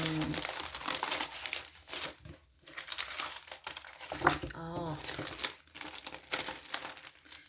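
Christmas wrapping paper crinkles and crumples continuously up close, with someone talking briefly in French over the rustling.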